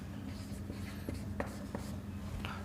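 Pen strokes on paper while a maths solution for a class 10 trigonometry exercise is written out, a faint quiet scratching with short taps over a low background hum.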